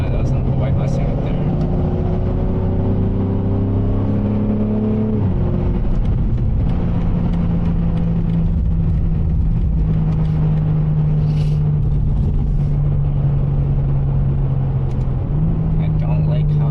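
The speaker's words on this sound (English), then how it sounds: "You hear that Mustang?" White Mustang engine at a loud car meet, a deep rumbling exhaust note holding and shifting pitch with a rise near the middle, steady and fairly close, with people talking over it.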